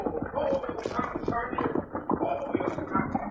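Horse hooves clip-clopping as a radio drama sound effect, steady and close, with voices talking over the rhythmic beats.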